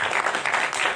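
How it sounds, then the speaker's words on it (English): Audience applause at an afternoon conference session, a dense, steady wash of many hands clapping together through the whole short stretch, close and fairly loud. "जोर से ताली बजाओ."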